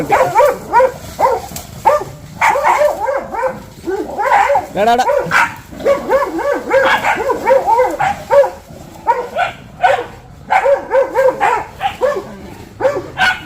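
Two house dogs bark furiously at another dog that has come near the home, with rapid, overlapping loud barks and yips continuing almost without pause.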